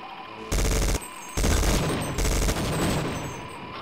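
Sniper rifle fire in the game Half-Life: Opposing Force, several loud sharp shots in quick succession, each with a blunt boom and short ringing tail, close and without talk.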